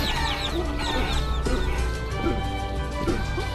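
Chickens cluck and bawk repeatedly in the video game Guacamelee over a steady hum of background music and ambient game sound.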